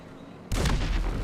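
A sudden loud car explosion in GTA 5 bursts in after a quiet lead-in, then a rumbling boom that holds and slowly fades.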